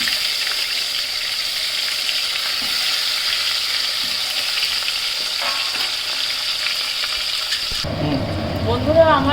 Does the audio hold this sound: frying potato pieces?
yes